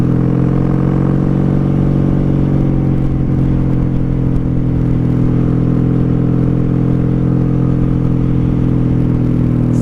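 A 1995 Honda Magna VF750C cruiser motorcycle riding steadily in fifth gear, a loud continuous low engine drone with wind rush, heard from the rider's position without change in pace.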